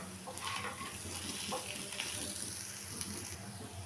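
Dalia khichdi with slit green chillies is fried and stirred in a pan, giving a soft, even sizzle with light scraping strokes of a spoon, fairly quiet and with no talk.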